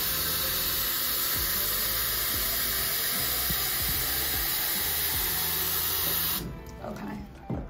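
Tap water pouring from a watering can onto houseplants in a catch pot gives a steady, close splashing hiss that runs unbroken for several seconds, then breaks off into a few softer trickles and drips.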